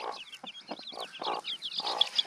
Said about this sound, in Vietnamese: Đây nhà em Công có đàn gà rất là đẹp này.